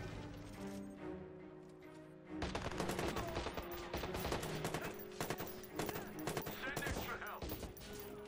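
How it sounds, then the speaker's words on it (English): Rapid bursts of automatic gunfire fill a Watch Dogs firefight, dense and loud crackling shots that start abruptly and continue with short pauses. "Oh my god, stop shooting at me."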